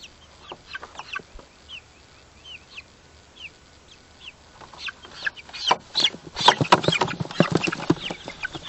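Young chickens in a grassy field pen cluck and peep, sparse and soft at first and then more frequent and louder as the flock grows busier, with no one talking.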